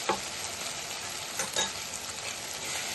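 Onions, tomatoes and ginger paste sizzle steadily in a pan for prawn curry, with a few brief scraping stirs at the start and middle, close and moderately loud, with no talking.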